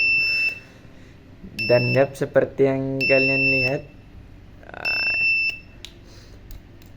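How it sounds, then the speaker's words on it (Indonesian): A piezo buzzer on a school flame-sensor electronics project sounds in a series of sharp, shrill beeps, some short and some sustained, set off by a flame held near the sensor, with someone speaking around the bursts. "buzzer akan menyala ketika terdeteksi api pada sensor api ini"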